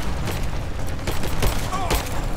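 Gunfire in the video game Rise of the Tomb Raider comes as a few quick shots over a busy, noisy game soundscape, short and moderately loud, with no talking.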